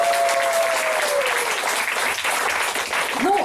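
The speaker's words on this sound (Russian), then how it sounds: "Отдельные аплодисменты ей." Steady applause from a crowd at a graduation concert fills the whole stretch, dense and continuous, with a faint tonal sound fading in the background.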